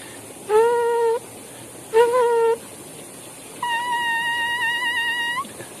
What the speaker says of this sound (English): Just an easy, easy lip buzz.